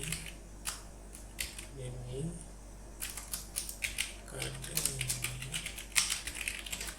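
Keystrokes on a computer keyboard while writing Bengali in Avro software, a steady run of quick close clicks with short pauses, a voice speaking between bursts.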